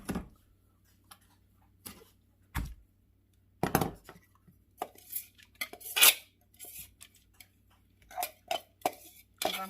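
Finely chopped pork BBQ being moved into a bowl, with scattered clinks and scrapes of utensils against dishes, irregular and close, broken by quiet pauses and no talking.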